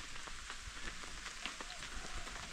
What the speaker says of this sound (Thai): แล้วฝนก็ ตกลงมาเยอะขึ้นนะครับฝนตกลงมา